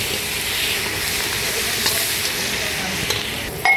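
Fish and radish fry together in oil, making a steady, moderate hiss and sizzle that runs throughout, with a few faint clicks of stirring near the end.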